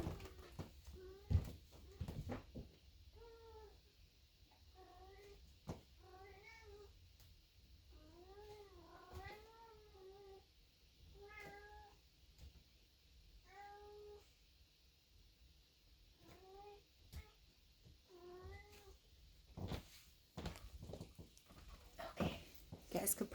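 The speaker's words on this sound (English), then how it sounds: "You guys could probably hear my kitty talking in the background too." A pet cat meows repeatedly in the background, a series of distinct rising and falling calls spaced across the stretch, with a few sharp knocks and handling noises, mostly faint but clear.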